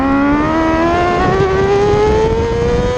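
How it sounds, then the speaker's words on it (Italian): A racing motorcycle revs in second gear on a circuit, its engine note climbing steadily toward about 6600 rpm, loud and close throughout with a strong harmonic whine. "Affronta di seconda marcia e con una moto che arriva a 6600 giri"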